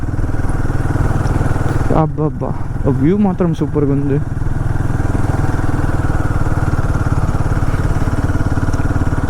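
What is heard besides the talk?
Royal Enfield Himalayan 450 motorcycle riding in third gear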